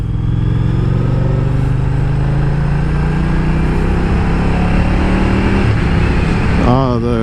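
A Moto Guzzi V100 Mandello S motorcycle rides onto a highway, its engine droning loud and steady with wind roar, the pitch climbing and shifting near the end as it accelerates through gears.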